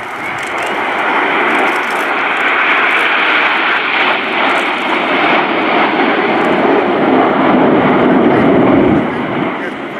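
Red Arrows jet aircraft fly in display formation at an airshow, a loud, continuous roaring engine rush that swells slightly and fills the whole stretch, with an announcer talking over it.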